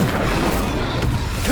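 Incendio fire spell cast in the game Hogwarts Legacy: a dense, steady roar of flame-like noise with low booming rumble, held loud and close for the whole moment without a break.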